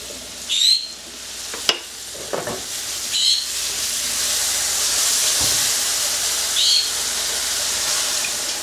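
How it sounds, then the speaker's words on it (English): Mushrooms hitting hot olive oil and butter in a pan set on high heat: a loud, steady hiss and sizzle with a few sharp spits and scraping stirs, close up, no talking. "when that olive oil and butter starts to slightly brown, that's the time you want to throw in the mushrooms"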